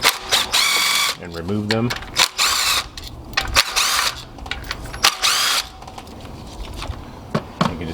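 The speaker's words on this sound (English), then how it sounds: "They're all held down by a 10mm screw. So you can go on ahead and loosen those screws up" Close, loud bursts from a power drill or driver spinning out the 10mm coil pack screws on a Toyota 2AR-FE 2.5L engine, several short whirring runs with brief pauses, and one short spoken remark partway through.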